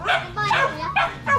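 Hungry dogs yip and whimper in four short bursts, close by and moderately loud, with a low hum underneath.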